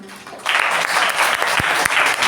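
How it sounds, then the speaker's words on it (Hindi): An audience at a school junior Hindi quiz semifinal bursts into loud, sustained clapping that rises after a quiet opening and continues to the end. "तो एक बार इनके लिए भी जोरदार तालियां।"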